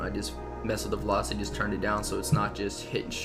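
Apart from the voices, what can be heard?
None of the usual background noises is heard.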